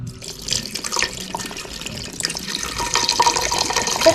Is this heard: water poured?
yes